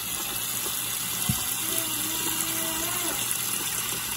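Lukewarm water runs steadily into a pot for cooking eggs, a constant close rushing with a faint hollow tone and one small knock partway through.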